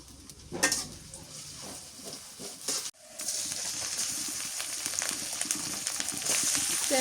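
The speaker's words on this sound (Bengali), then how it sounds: "তেলের মধ্যে নাড়াচাড়া করে নিই" Whole spices such as garam masala and cloves are stirred in hot oil while cooking mutton with jackfruit, giving a steady sizzle with scraping stir strokes. A brief pause breaks the sound, then a louder, continuous fry follows.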